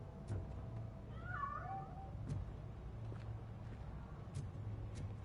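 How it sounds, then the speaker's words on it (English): A cat meows once in the video game Robocop: Rogue City, a short wavering cry over a low steady hum with a few faint clicks around it. "That cat must be hiding inside."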